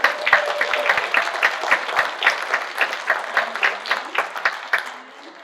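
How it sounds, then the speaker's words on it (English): An audience applauds a U.S. congresswoman introduced at a farm bill conversation event: steady, dense clapping from many hands, moderately loud and near, holding for several seconds before thinning and fading at the end. "Please give her a round of applause."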